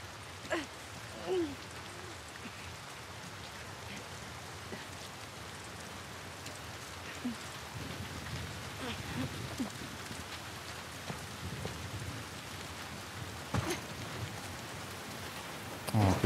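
Steady rain pours in The Last of Us Part II Remastered on PS5, a soft, even wash of drops on surfaces that continues without break.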